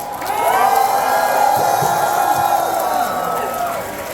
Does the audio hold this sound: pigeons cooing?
no